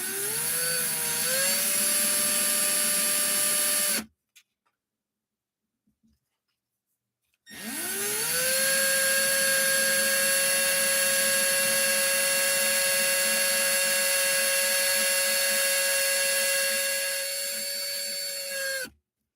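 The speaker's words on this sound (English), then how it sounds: "Power tools for the win." A power drill with a bit runs close by and loud in a steady high whine, spinning up for a few seconds, stopping during a brief silence, then starting again for a longer continuous run.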